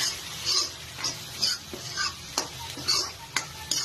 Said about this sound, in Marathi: शेजवान सॉस मी टाकून घेतलेला आहे आणि पटापट मला तो आता हलवून घ्यायचा